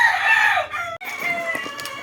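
A rooster crows loudly and close by, one long strained call that breaks off, followed by softer clucking and scratchy farmyard noise.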